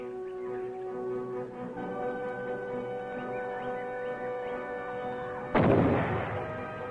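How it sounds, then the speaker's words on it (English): A grenade booby trap set off when a falling rock pulls the pin, a single sharp blast bursting out near the end over a steady droning hum, with no talk. "Tripped by foot, the weight of the falling rock pulls the pin to activate the grenade."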